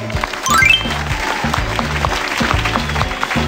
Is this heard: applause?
yes